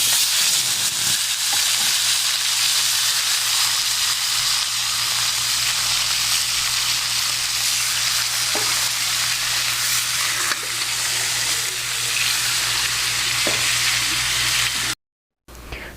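Mutton pieces frying with garlic paste in a pot, a continuous loud sizzle and hiss with occasional stirring clinks, no voices.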